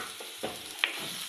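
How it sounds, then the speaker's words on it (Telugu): Onions and cumin seeds frying in a pan give a soft continuous sizzle, with a couple of light stirring scrapes and a sharp clink near the end, close and fairly quiet. "కొంచెం జీలకర్ర కూడా వేసుకుంటున్నాను."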